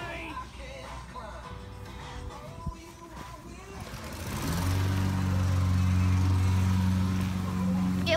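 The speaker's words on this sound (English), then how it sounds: "Yeah, lawnmower loud." A lawn mower engine starts up partway through and settles into a loud, steady drone close by, with quieter background noise before it.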